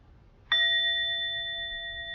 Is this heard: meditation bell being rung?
yes